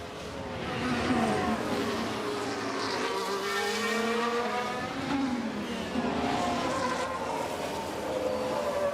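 Formula 1 race cars in the F1 Manager 2026 video game at the Barcelona circuit in Spain scream past with rising and falling high engine pitches, overlapping passes heard over a steady roar.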